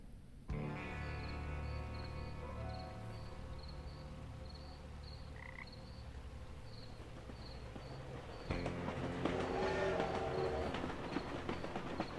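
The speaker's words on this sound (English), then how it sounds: "There goes the choo-choo train." A train rolls past in the video game Thimbleweed Park, a steady low rumble with tonal droning and a faint repeating high chirp, growing louder and rougher toward the end, with no talking.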